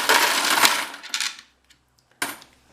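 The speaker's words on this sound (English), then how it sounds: "I'll just take another handful, a slightly larger handful of coins," A handful of coins dumped into a coin sorter, a loud jangling clatter that fades over about a second, followed after a short pause by another brief metallic rattle.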